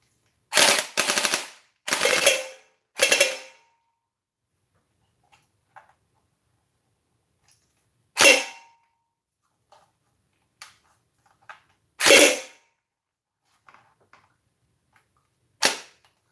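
A toy blaster in select fire mode shoots loud, sharp bursts of rapid clattering shots, then single crisp shots with long silent gaps and faint clicks between them.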